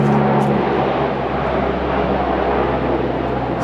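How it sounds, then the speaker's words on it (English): A C-130 military transport plane passes overhead, a loud steady propeller drone that fills the whole stretch without a break. "Plane going overhead."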